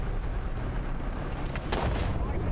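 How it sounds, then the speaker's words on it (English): Artillery shells striking near an open-top tank in War Thunder, a low rumbling boom with a sharp impact burst toward the end over steady engine-like noise. "Of all things that could have taken me out, artillery."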